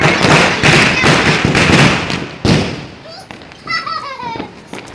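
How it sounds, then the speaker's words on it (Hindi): Sparklers and firecrackers go off on a rooftop during Diwali celebrations, with crackling bursts and thuds, then whistling, fizzing sparks, as children chatter and shout nearby. "पहले छत पर थोड़ी सी फुलझड़ी हमने जला दी"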